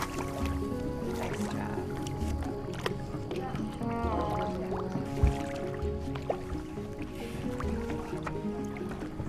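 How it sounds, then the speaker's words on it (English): Splashing and dripping water as a person enters the water to swim with manatees, a steady wet churn with small drips and squishes, fairly close, with faint voices in the background. "Getting into the water"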